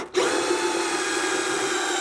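A power drill starts abruptly and runs at a steady, high-pitched whine, boring into a plastic barrel with a continuous hum.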